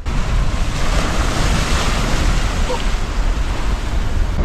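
Steady roar of gusty wind buffeting the microphone over breaking waves and rushing water aboard a sailboat on New Zealand waters, loud and continuous with no voices.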